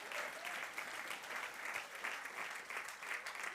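Church congregation applauding for Jesus during a sermon, a steady, even wash of many hands clapping, heard from a distance and fairly faint.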